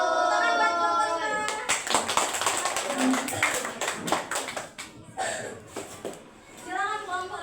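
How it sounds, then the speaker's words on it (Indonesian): Schoolchildren in an Indonesian classroom clap for a student group, a burst of scattered, uneven hand claps mixed with children's chatter and a teacher's voice. "Tepuk tangan buat kelompok 5."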